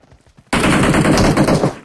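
Automatic rifle fire in the PUBG Mobile game opens suddenly as a loud, rapid, continuous burst of shots lasting over a second after a quiet moment.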